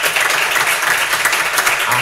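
Students from Lycée Saint-Alphonse applaud in a school setting, a dense, loud, continuous wash of many hands clapping at once.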